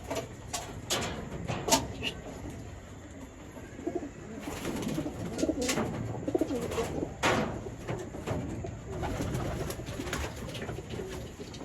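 Domestic pigeons coo repeatedly at close range, soft throaty calls recurring every second or so, alongside occasional clicks and faint shuffling.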